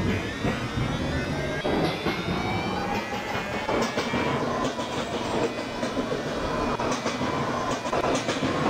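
An R143 Siemens subway train on the L line in Roblox rumbles steadily along the track, with rhythmic wheel clatter and a faint high whine throughout, loud and close.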